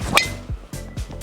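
A golf driver strikes a ball off the tee at Aphrodite Hills with a single sharp, bright ping near the start, followed by a few soft, dull thuds outdoors.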